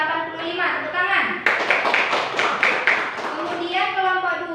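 Students in a classroom break into clapping for a group's score, a burst of sharp, fairly close claps that follows a teacher's voice and then fades back into talk.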